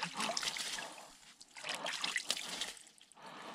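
Cold stream water trickles and splashes in uneven bursts while a TTR dirt bike is washed down, a quiet, close sound with no talk.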